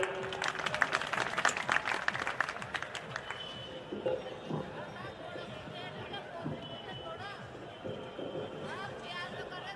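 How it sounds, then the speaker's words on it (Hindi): A crowd at an Indian Hindi poetry recital claps in a burst that fades after a few seconds, followed by scattered crowd murmur and people talking. "आइए योगा तालियां बजाइए"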